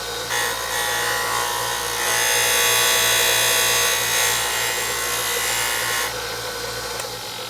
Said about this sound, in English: I found the best way to take down the heel was to do it on the benchtop sander.